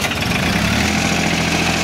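A clutch-start engine with about 238 hours on it idles steadily and smoothly up close, a continuous low rumble with no voices over it.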